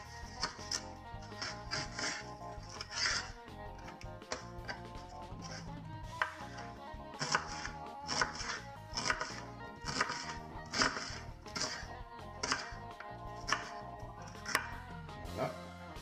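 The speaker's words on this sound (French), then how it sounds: "on coupe le poireau" A knife chops through a leek on a board in a steady series of sharp, close knocks, about a dozen or more crisp strokes in quick rhythm with brief pauses.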